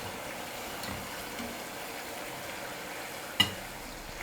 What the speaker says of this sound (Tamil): மீதி இருக்கிற எல்லா மாவையும் எண்ணெயில் போட்டு பொரிச்சு எடுத்துக்கலாம்